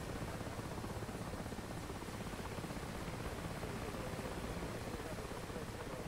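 A Mi-26 Halo helicopter in DCS flight simulation passes with a continuous, fairly faint rotor drone and broadband whoosh, steady across the whole stretch.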